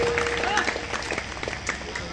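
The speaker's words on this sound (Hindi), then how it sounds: "एक बार ताली से सम्मान कर दीजिए अपने धरती पर।" An audience at a Birha folk music event applauds steadily, a dense wash of many hands clapping with faint voices mixed in throughout.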